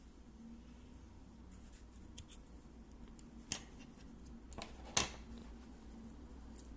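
Scissors snip leftover yarn after crocheting, giving a few faint, close, sharp clicks against a quiet background hum.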